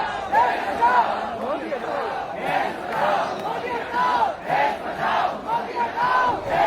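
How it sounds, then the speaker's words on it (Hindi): A large protest crowd at Jantar Mantar in Delhi chants the slogan "Modi hatao desh bachao" in unison, the loud, rhythmic group shouts repeating in steady waves. "सभी एक ही नारा लगा रहे हैं साथ में कि मोदी हटाओ देश बचाओ"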